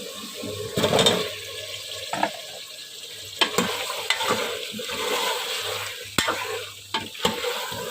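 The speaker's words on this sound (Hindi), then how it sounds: "आलूओं की 2 से 3 मिनट भुनाई करूँगी।" Potatoes sizzle as they fry with tender beef in a pot for aloo gosht, with repeated scraping stirs over a steady, close frying hiss and no talking.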